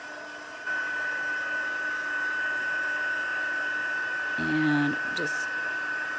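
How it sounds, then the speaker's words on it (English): A craft heat tool blows hot air on its high setting, a steady close whirring hiss with a constant whine, and a person briefly speaks over it. "I have it on the heat tool on high."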